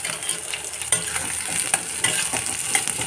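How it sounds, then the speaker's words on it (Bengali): Eggplant and onion fry with green chilies in a hot pan, hissing in a steady sizzle broken by a few sharp clinks of a utensil stirring the pan. "বেগুন আর পেঁয়াজ ভেজে নিচ্ছি কাঁচা লঙ্কা দিয়ে।"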